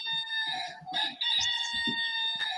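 A rooster crows loudly and close, its long, shrill call repeated and stretched across the moment, with softer clucking mixed in below.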